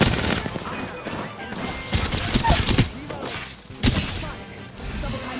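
Rapid bursts of gunfire in the Apex Legends video game, dense overlapping shots and impacts that surge and fade in waves, loud and close throughout.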